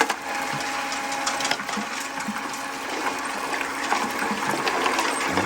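A Gold Fox trommel runs steadily while washing dug material with water, giving a continuous broadband rush and churning wash with rattling gravel throughout, fairly close and with no talk.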